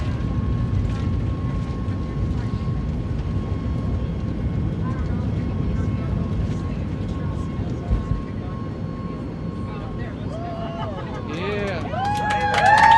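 Inside a Boeing 737 MAX on its takeoff roll, the jet engines give a steady roar with a thin high whine, while people talk nearby in the cabin.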